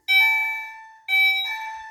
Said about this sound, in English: here's the Commander 3, which is really loud for a chime